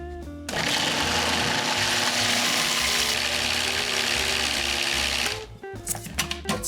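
A blender whirs a chocolate dessert mixture sweetened with honey, running at a loud, steady roar for about five seconds before cutting off, followed by a few light clatters.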